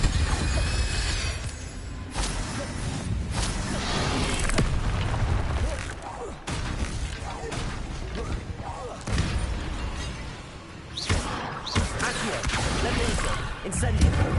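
The Incendio fire spell from Hogwarts Legacy is cast repeatedly, bursting in whooshing booms and crackling blasts amid busy clattering action; a voice can be heard.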